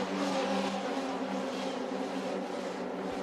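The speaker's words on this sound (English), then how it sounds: "leading the 26 cars through Eau Rouge for the first time this weekend" Race cars run through Eau Rouge as a pack of 26 at Spa, a dense, loud, continuous roar of engines with no breaks or voices.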